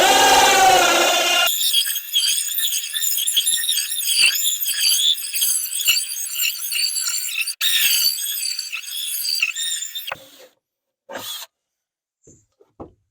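Power drill boring two holes through the wooden floor of a small truck while installing a diesel heater, a loud continuous whining bore with pitch wavering, a brief pause midway, then it stops with a few faint knocks and scrapes.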